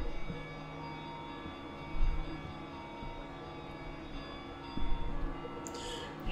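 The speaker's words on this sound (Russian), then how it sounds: "Так, заиграли колокола." Church bells toll in the horror video game Gray Dawn, deep resonant strikes with long ringing overtones sounding at intervals over a low ambient hum.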